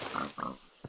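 Pig oinks and grunts in the video game Minecraft, a few short nasal bursts close up, with a brief pause before a final quick grunt.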